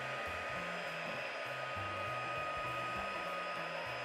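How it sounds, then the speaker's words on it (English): A handheld heat tool blows hot air while drying a handmade card, a steady, even whoosh with a motor hum underneath, continuous and fairly quiet, with no voices. "use your heat tool if you've got one"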